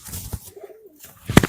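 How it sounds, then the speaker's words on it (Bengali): Pet pigeons in a loft give a soft low coo, close by, bracketed by a few rustles and a sharp louder knock near the end. "শখের পায়রা এগুলো"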